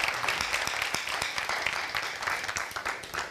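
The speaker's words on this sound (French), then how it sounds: "Applaudissements pour vous." Audience applause at a live show: dense, steady clapping from a crowd at moderate volume that continues throughout.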